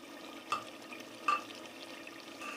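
Yogurt being stirred into biryani masala in a pan, giving faint wet scraping and squelching with two brief sharper clinks of the utensil against the pan in a quiet kitchen.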